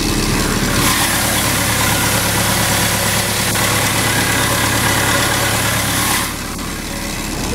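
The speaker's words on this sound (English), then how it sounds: "Got a John Deere 4-cylinder diesel running it." A Leroi air compressor driven by a John Deere four-cylinder diesel idles steadily, a loud continuous close rumble with an even mechanical drone that dips slightly near the end.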